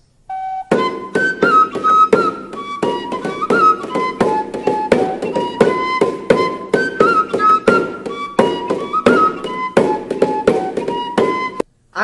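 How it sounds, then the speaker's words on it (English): A small medieval tabor, a wooden or metal drum with an animal-skin head, is struck in a steady rhythmic pattern of sharp taps. A bright melodic line plays alongside it, and the whole sounds close and clear. "tabor is a small drum made from the trunk of a tree or a metal with animal skin"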